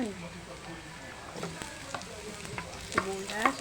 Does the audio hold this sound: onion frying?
yes